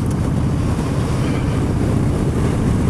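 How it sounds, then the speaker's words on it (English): Loud, steady wind buffeting roars throughout a Harley-Davidson Street Bob motorcycle ride on a very windy, damp day between Douglas and Castletown, with no voices. "It's a bit windy, actually it's very windy"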